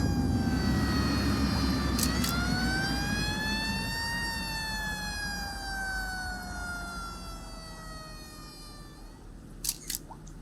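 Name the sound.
fire engine siren in a city-building video game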